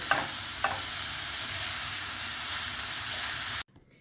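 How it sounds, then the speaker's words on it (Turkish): Hot red pepper powder roasts in a pan with a steady close sizzle and two brief stirring scrapes early on, then the sound cuts off abruptly near the end. "Şimdi kavrulmasını bekliyorum."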